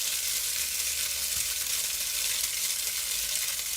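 Tofu frying in a pan for a plant-based peanut butter pad Thai, giving a steady, even sizzle with broad hiss that holds at constant loudness throughout, with no voices.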